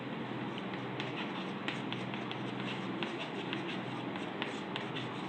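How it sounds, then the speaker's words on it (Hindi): A pen scratches across paper as a math question about coin tossing is written out by hand, with quick irregular strokes and taps over a steady background hiss. "पहले मैं सवाल लिख दे रहा हूं"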